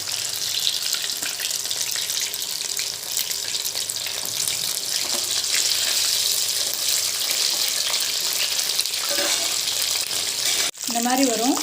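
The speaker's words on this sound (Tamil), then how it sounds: "இப்போ நம்ம இதை எடுத்து எண்ணெயில் போட்டு பொரிக்கிறோம்." Marinated mushroom pieces fry in hot oil in a kadai, giving a steady, loud hiss and crackle that runs throughout, with a brief dip near the end.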